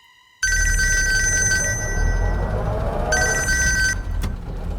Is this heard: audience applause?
no